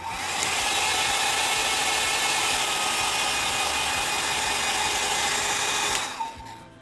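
A hair dryer runs steadily at close range, drying fresh dark blue paint on a stone, with an even airy roar that holds for about six seconds and then cuts off.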